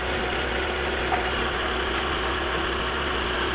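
A face mill cuts across a roughly 200-thousandths aluminum plate with a little WD lubricant, turning about 1800 RPM on mechanical feed; a steady, dense machine drone holds continuously and loudly throughout, without talk.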